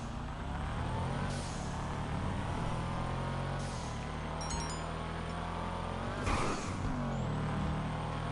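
Video-game car engine humming steadily with low rumble and occasional revving swells while the car drifts in circles, continuous and fairly close, with no talking.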